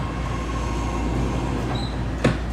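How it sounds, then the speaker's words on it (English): A BART Fleet of the Future Blue Line train for Dublin/Pleasanton runs through Embarcadero station underground, giving a loud, steady rail rumble with a low hum, faint squeal and a brief sharp clank near the end. "This is the Blue Line, Dublin Pleasanton train."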